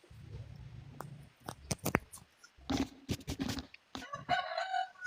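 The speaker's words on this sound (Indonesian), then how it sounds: "3 kali berkokok ayam" A rooster crows once, a rising and then sustained call near the end, after scattered clucks, rustling and sharp clicks close by.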